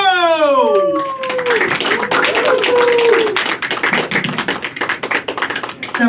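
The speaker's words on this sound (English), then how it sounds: "let's make some noise for Lauren Caputo" Comedy club audience applauding and cheering for a stand-up comedian, dense loud clapping that thins toward the end, following an emcee's voice at the start.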